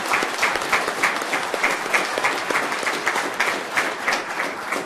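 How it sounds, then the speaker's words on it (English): A room full of people at an Amarillo city council meeting claps for young BizTown participants, a dense, steady round of applause that carries on evenly for several seconds. "Would you join me in a round of applause for them?"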